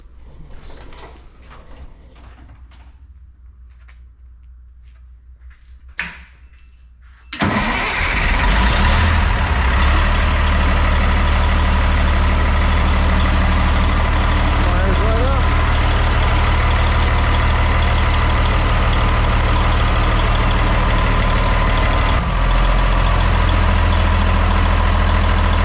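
A 1987 Peterbilt 379 truck's large diesel engine cranks and starts after a few quiet seconds, then settles into a loud, steady idle that rumbles on without any voices.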